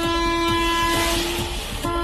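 A train sounds a loud, sustained horn as it nears a railway crossing where a truck stands half on the tracks, with wheels rumbling and clicking rhythmically close by beneath the blast.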